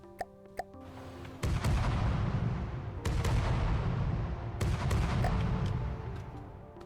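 Battleship flak turrets in From the Depths pound out heavy, booming volleys, loud and close, with several sharp bursts landing slightly out of step over a dense rumbling roar.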